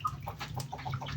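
Chickens of the kuntara breed cluck softly nearby in quick, low murmuring bursts, with a faint steady hum underneath.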